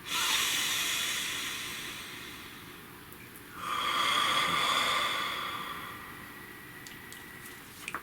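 A person takes one slow, deep breath, a long hissing inhale and then a long, airy exhale, close to the microphone with no speech.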